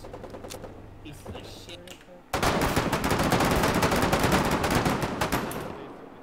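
Submachine gun fire in the trench-warfare game Foxhole starts abruptly after a quiet stretch of talk, then runs as a loud, rapid, sustained burst of shots that tapers slightly toward the end.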